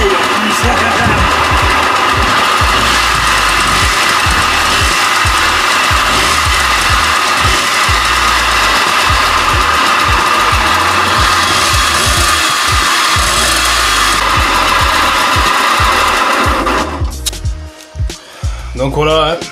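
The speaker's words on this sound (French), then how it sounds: "faire un petit démarrage du Seigneur, pour que vous puissiez vous rendre compte que quand même, cet engin qui était dans la flotte tourne" A Honda Scoopy SH 50 scooter, recovered from water, runs at a steady, loud idle close by with a rough, pulsing engine note. It cuts off near the end, and speech is heard over it.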